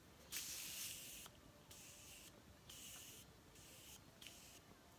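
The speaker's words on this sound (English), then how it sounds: "Alright, new setting spray." Several short hissing bursts of a makeup setting spray nozzle, each lasting about a second, separated by brief pauses, close and fairly soft.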